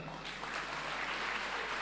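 An audience at a school annual day event applauds the MCs with steady, dense clapping that swells slightly, filling the hall for about two seconds without any talk.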